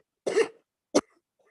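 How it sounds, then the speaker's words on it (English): In a quiet courtroom during a Friday docket, a person gives two close, sharp coughs, the first longer and the second a brief single burst, with silence around them. "I think this has been a week of coughing"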